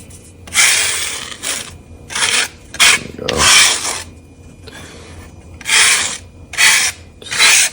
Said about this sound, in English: Lightly rub it so you can take the excess of it, but not to take too much.